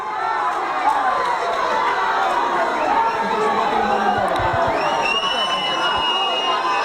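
Home rugby fans in the stands at an Italian match between Amatori Alghero and Cus Torino, an angry crowd roar with shouts and whistles rising steadily and continuously, heard from a distance.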